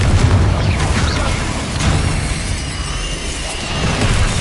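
A Confringo blast spell explodes in the video game Hogwarts Legacy, a loud, continuous booming roar with a crackling burst near the start and a second swell midway, sustained throughout.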